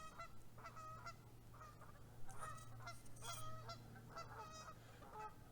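Geese honk and cluck repeatedly in a busy, overlapping chorus, fairly close, with a steady low hum running underneath the whole time.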